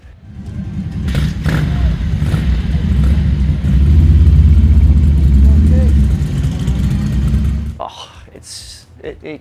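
Ducati Italian motorcycle engine running steadily and loud, a dense low rumble that swells slightly midway, then cuts off near the end, leaving brief quieter noises.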